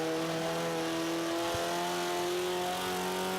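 A race car engine from Forza 5 holds a steady, sustained drone through a lap, with no shifts or pauses and no talk over it.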